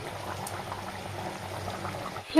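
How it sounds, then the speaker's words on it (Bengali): Chicken curry gravy bubbles in a pot on a gas stove, a low, continuous gurgling boil heard close and fairly quiet, with no one talking. "মাংসের ঝোলটা ফুটছে।"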